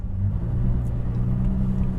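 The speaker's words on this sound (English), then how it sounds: "you get the revs up to a certain level" A Jaguar F-Type's engine holds a steady, loud rumbling rev at raised idle before a launch, a continuous low drone with no talk over it.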